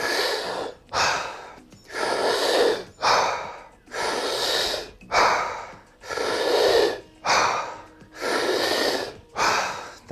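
Deep, rhythmic breathing during Wim Hof breathwork, with long forceful inhales and exhales repeating about every second and a half, close and loud, with no talking.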